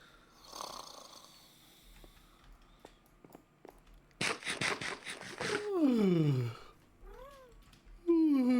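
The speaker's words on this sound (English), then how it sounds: "Don't just meow and flutter." A cat in Minecraft lets out a couple of drawn-out meows near the end after a burst of rustling and fluttering, with quiet breathy sounds earlier.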